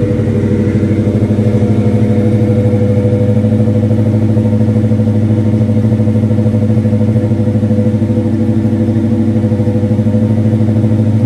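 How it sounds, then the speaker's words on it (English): A 1972 Chevrolet Chevelle engine runs through a Flowmaster exhaust, a loud, steady, close rumble with a continuous throb for over ten seconds and no clear revving surges. "Flowmaster exhaust system."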